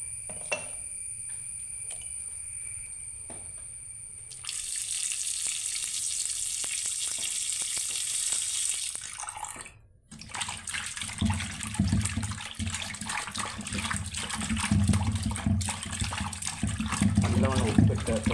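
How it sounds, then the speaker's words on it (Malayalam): Tap water runs steadily while fish is washed with salt in a home kitchen for fish curry, a continuous hiss that pauses briefly then returns with splashing and rubbing, louder toward the end. "കുറച്ച് ഉപ്പും കൂടി അത് ചേർത്ത് നല്ലവണ്ണം കഴുകിയെടുക്കുക"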